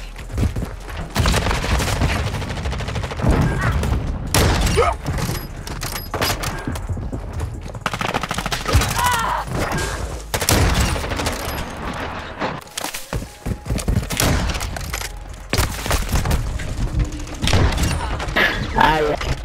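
Dense, continuous gunfire in the Modern Warfare 2 video game, rapid cracks and booms layered throughout with brief dips, loud and up front, mixed with voices talking over it.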